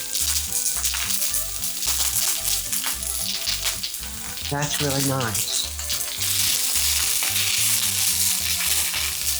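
Sliced peppers and onions sizzle loudly in a hot pan for chicken fajitas, a steady crackling hiss throughout, with brief talk over it near the middle.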